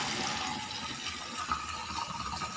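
Water poured or running for watering indoor plants on a home balcony, a continuous soft splashing flow, close but fairly quiet, with no talk.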